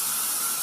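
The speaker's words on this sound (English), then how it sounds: "I'm going to give it a spray" A short, steady hiss of hairspray sprayed onto styled hair, close and loud, a single continuous burst.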